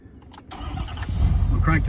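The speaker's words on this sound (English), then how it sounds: "I'm gonna crank the truck." A Ford F250/F350 pickup truck engine cranks and catches, rising from a low rumble into a steady, loud idle close by, with a voice speaking briefly over it.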